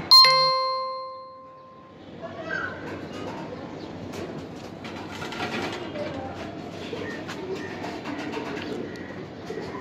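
Giribaz pigeons of the palla line shifting and cooing inside a cage, a steady low rustle of wings and feet with soft coos, heard close after a brief bright chime at the start.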